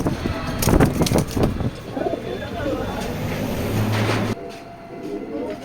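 Racing pigeons, including a white grizzle hen, cooing at close range amid a busy loft, with rustling and someone talking over part of it, then quieter at the end.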